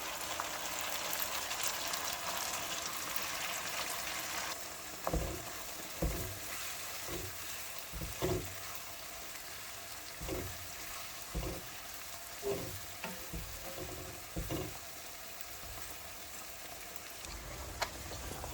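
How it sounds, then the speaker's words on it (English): A tomato and pepper mix frying in a pot for Nigerian local rice, a soft steady sizzle and bubbling throughout with occasional stirring knocks, fairly quiet and without talk. "Leaving this to simmer for fry, I guess, for 5 minutes. Tomato pepper combo."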